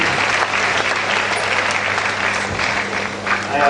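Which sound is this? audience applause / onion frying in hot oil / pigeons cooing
audience applause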